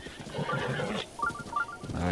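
Horse galloping in The Legend of Zelda: Breath of the Wild, a soft rhythmic hoofbeat under someone talking throughout, with a short neigh-like tone midway.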